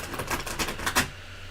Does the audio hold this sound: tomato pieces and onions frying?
no